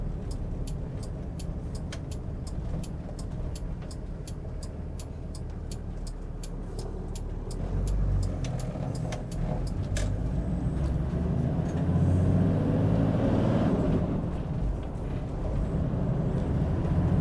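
A 1997 Toyota Land Cruiser Troopy being driven, with a steady engine and road drone that swells as it speeds up, plus clicking and tapping noises early on, heard from inside the cabin.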